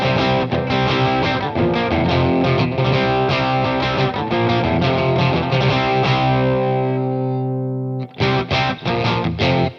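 Electric guitar with the top end rolled off plays distorted sustained chords and notes, loud and upfront, ringing out and fading before a few fresh strummed hits at the end.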